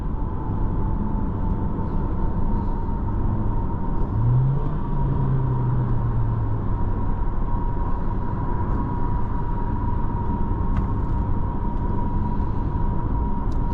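Cabin of a 2023 Honda HR-V Sport on the road, a constant low engine and road rumble with a steady hum, even in loudness throughout and with no voices.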